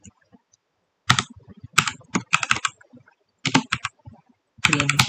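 Clattering keystrokes on a computer keyboard as code is typed, in several quick bursts separated by short pauses, close and clear with no talk.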